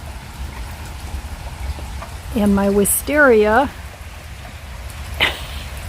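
Steady rain falls outdoors in a garden, a continuous close hiss of drops, with someone speaking briefly over it.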